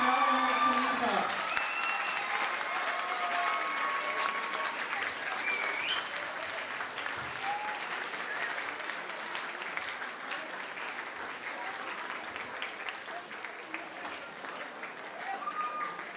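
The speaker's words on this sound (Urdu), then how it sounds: "آپ کی بھرپور تالیوں میں اسٹیج پر تشریف لاتے ہیں director EQ Khan school and academy Ishtiaq" Steady applause from a school audience in an assembly hall, a dense wash of clapping that keeps going at even volume throughout, with a faint voice underneath.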